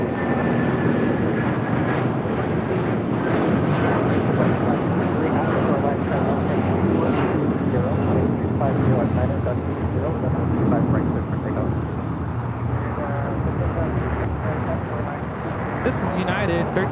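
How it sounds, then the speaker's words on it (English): A United Boeing 757-200 in Star Alliance livery takes off from LAX, a steady, loud, broad jet engine roar that continues throughout, with people talking over it. "This is United 1331 taking off to Newark on a 757-200 in the Star Alliance livery."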